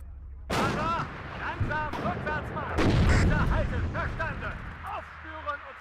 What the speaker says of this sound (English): And artillery coming in on the Leopard now.